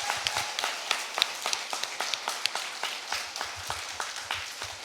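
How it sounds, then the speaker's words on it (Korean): Steady applause from a church congregation at a 35th anniversary worship service, many hands clapping together in a dense, continuous patter of sharp claps lasting several seconds, with no talking over it. "다시 한번 큰 박수 해주시기 바랍니다."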